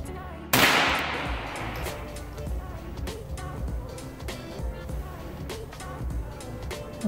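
A single sharp rifle shot rings out close by at a shooting range while a scope is bore sighted, its loud crack trailing into a long reverberant decay over a steady outdoor background rumble.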